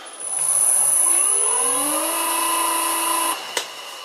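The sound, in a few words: drilling with a 12 mm drill bit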